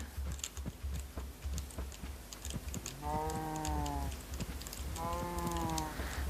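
Cows mooing in the block-building game Minecraft, two drawn-out tonal moos about two seconds apart over steady keyboard clicking.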